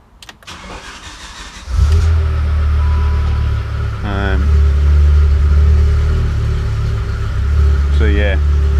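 A BMW E39 M5 fitted with a swapped S85 V10 engine cranks and starts, then runs loudly up close, settling into a steady idle with brief revs, while someone talks briefly twice.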